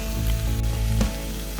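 Tinned fish sautés in a pan, giving a steady close sizzle and crackle with a brief stir or clatter partway through, and no talking.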